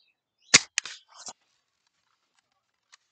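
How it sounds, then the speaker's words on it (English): Buck Jones BB gun firing a BB at a target: a sharp snap followed quickly by a couple of smaller clicks and a faint metallic tick, then near silence with one tiny distant tap. "I don't know if you can hear that, hitting the target."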